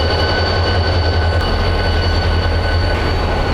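A Mugunghwa passenger train hauled by diesel locomotive 7405 pulls into a Busan station platform. Its engine gives a loud, close, steady rumble throughout, with no talk.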